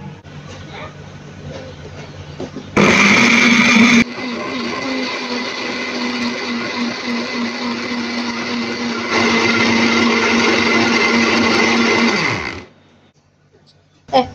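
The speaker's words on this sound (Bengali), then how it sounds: "এক মিনিট ব্লেন্ডার করে নিলাম।" An electric blender whirs loudly while blending mango juice made with ripe mango, black salt, sugar and cold water. It starts abruptly, holds a steady high whine with a jump in pitch partway through, then winds down and stops.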